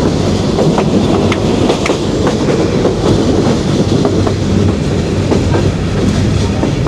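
Passenger train on the Dhaka to Mohanganj run, heard from aboard: a loud steady rumble with repeated clickety-clack of wheels over rail joints throughout.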